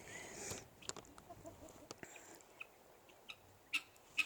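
Chickens running loose make scattered soft clucks and a few sharper calls, spaced irregularly across a quiet outdoor background.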